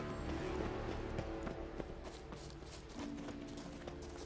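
Horse hooves clip-clopping at a run in the video game The Witcher 3, a steady rhythmic thudding close by, set against a dense ambient game soundtrack with no talking.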